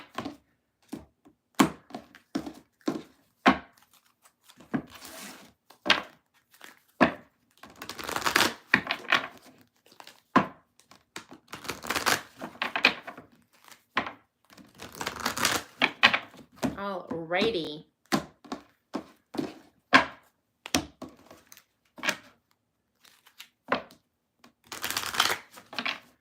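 Tarot cards are shuffled and tapped in many short, uneven bursts of flicks and soft thumps close by, while a voice speaks at intervals between them.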